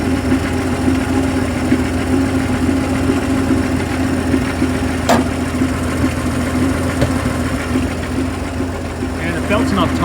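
An International KS4 WW2 truck engine idling steadily and loudly while misfiring on one of its six cylinders, a rough continuous rumble that runs the whole time with a brief click partway through.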